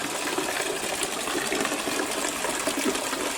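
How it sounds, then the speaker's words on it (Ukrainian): Water runs steadily into a village well, a continuous broadband gushing and trickling that stays close and even throughout, with no voices. "І тут водичка біжить."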